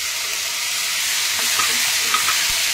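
Tomatoes and chillies tipped into a pan of translucent frying onions, giving a steady loud sizzle with light stirring scrapes throughout.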